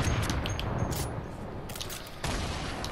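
Video game gunfire as a continuous, rapid, dense rattle with a brief lull near the end before it resumes, steady and moderately loud.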